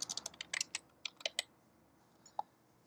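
A burst of quick, close keystrokes on a computer keyboard, about a dozen clicks in rapid uneven rhythm, then a pause and one last tap, with no talk.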